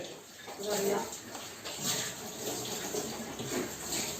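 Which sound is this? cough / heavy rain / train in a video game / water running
water running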